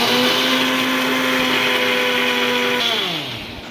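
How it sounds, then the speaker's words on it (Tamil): A kitchen blender grinds banana and curd into a hair mask, a loud steady whine close up that winds down audibly in pitch over the last second, with no voices. "ஸோ எக்கு பிடிக்காதவங்க தயிரும் வாழைப்பழம் மட்டும் சேர்த்து அரைச்சிக்கோங்க."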